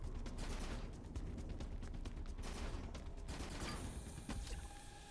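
Rapid, continuous gunfire from a Roblox shooter game as an enemy is hit, a dense rattling stream of shots that stays loud and steady throughout, with a slight thinning near the end.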